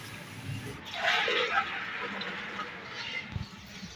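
Ten litres of water pour into a large cooking pot for commercial-size dal, a rushing, splashing gush that swells and then settles into a steady, quieter flow.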